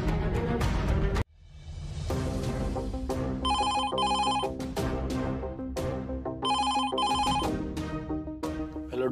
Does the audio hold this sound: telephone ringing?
yes